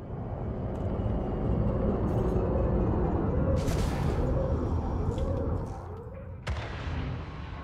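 Explosions and flying debris fill a space station interior in Elite Dangerous, a heavy continuous rumble broken by sharp bursts and booms, loud and close throughout.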